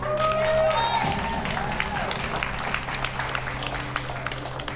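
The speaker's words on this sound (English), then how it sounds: "So clap it up again." An audience at a spoken word poetry anniversary event claps and cheers, a burst of applause rising over lingering voices and then settling into scattered clapping.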